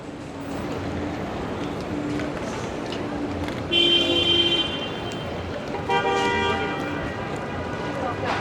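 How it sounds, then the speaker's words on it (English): Busy New York City street traffic on Hudson Street rumbles steadily as several car horns honk in short and longer blasts, heard from a bicycle amid the roadway noise. "The traffic of New York, it never ends."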